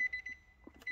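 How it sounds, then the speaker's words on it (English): A 2017 Nissan Juke 1.2 chimes a warning because its electrics are switched on with the engine not running, giving quick, thin, fairly quiet repeated beeps inside the cabin. "about the beeping, it doesn't like being switched on without the ignition running"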